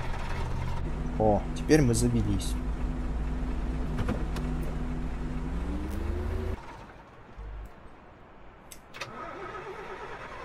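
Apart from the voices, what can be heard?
Ikarus bus engine starting in Bus Driver Simulator 19 video game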